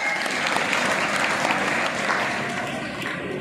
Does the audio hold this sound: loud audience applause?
yes